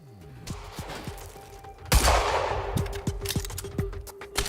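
Pistol shots crack out one by one in a video-game sniper duel, several spaced reports ringing over a busy background, with a louder burst and rumble midway.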